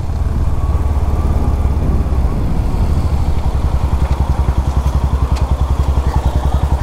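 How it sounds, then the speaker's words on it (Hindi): A motorcycle engine runs steadily and loudly at close range during a rainy ride, its rapid, even thrum continuing without a break. "भाई क्या भाग रही है बाइक"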